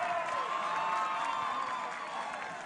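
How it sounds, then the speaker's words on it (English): Arena crowd at a buhurt medieval combat world championship cheers and applauds to welcome China's team, a dense, continuous roar of clapping and shouts heard from a distance with faint voices mixed in. "Let's give them a big round of applause."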